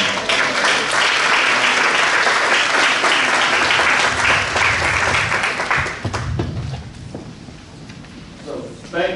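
Sustained audience applause at a Frederick Douglass bicentennial evening event, dense and loud for about six seconds before tapering into scattered claps and a quieter room.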